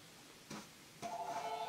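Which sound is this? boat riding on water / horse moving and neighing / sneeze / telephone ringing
telephone ringing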